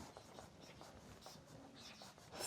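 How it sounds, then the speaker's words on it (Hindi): Pen scratching out answers on paper during a worked physics exam question, a steady run of short close strokes in a quiet room with no talk. "सबसे पहले इसको लिख देते हैं"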